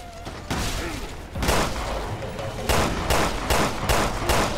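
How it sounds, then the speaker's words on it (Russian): Shotgun blasts boom in the Resident Evil Revelations 2 video game, roughly six loud shots at uneven intervals, with the later ones in quicker succession over game background noise. "Он два раза в него из дробовика выстрелил, тот даже не упал."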